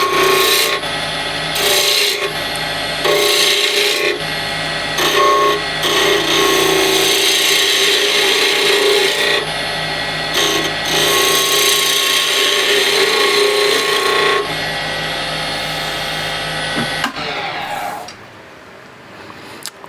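Woodturning skew chisel cleaning up the end grain of a red resin and gum wood box on a lathe, a steady loud rasping scrape with brief pauses, running continuously until it stops near the end.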